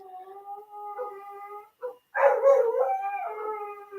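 A dog outdoors howls in long, wavering tones, pausing briefly before breaking into a louder, rising howl with yips, fairly close and unaccompanied by talk.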